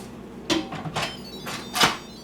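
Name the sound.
sealing the Instant Pot lid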